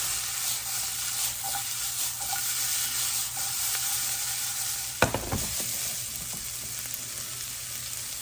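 Garlic sizzles steadily in a hot pan for shakshouka, a close even frying hiss with a sharp clatter midway as the pan is stirred and flipped, no talking.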